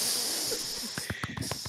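A voice imitates a sizzling cannon fuse with a sustained breathy hiss, followed by a quick run of sharp spitting crackles, close and fairly quiet.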